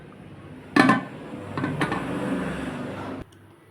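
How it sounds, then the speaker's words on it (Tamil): A metal pressure cooker lid set on and closed over potatoes and water, a sharp metallic clank followed by scraping and rattling as it is fitted, then a final click before quiet. "இப்போ குக்கரை மூடி வச்சிடலாம்."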